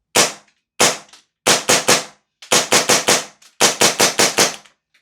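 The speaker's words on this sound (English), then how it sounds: "I'll just try and get close to the camera for you so you can see this thing shooting" A Tokyo Marui airsoft pistol fires a long string of sharp, loud, close snaps, shot singly and in quick groups of three to five, with short gaps of silence between the bursts.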